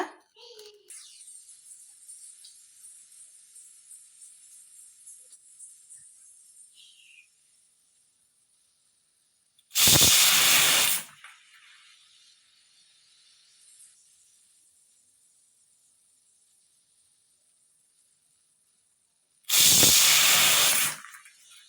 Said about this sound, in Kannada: ಈಗ ನಾನು ಒಲೆ ಮೇಲೆ ಇಟ್ಟು ಐದು ಸಿಟಿ ಹೊಡಿಸ್ತೀನಿ ನೋಡಿ ಗ್ಯಾಸ್ ಮೇಲೆ ಇಟ್ಟಿದ್ದೀನಿ